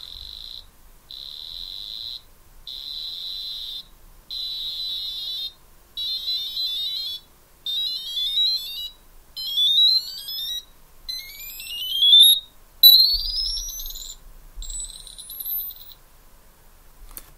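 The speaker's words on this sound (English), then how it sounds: "using the soundboard to produce beeps and play music." A cheap Raspberry Pi beeper steps through a scale of electronic tones, evenly spaced bursts that climb higher and sweep upward over the run, clean and alone with no talk.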